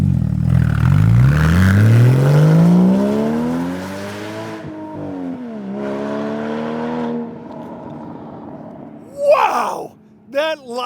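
A Porsche Cayman fitted with a FabSpeed exhaust makes a flyby, its engine climbing loudly in pitch as it approaches and passes close, then fading into the distance, followed by a couple of brief squeaky chirps near the end.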